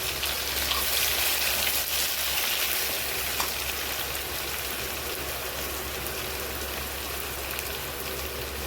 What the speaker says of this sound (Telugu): ఇప్పుడు దీన్ని మనం నూనెలో వేయించుకుందాం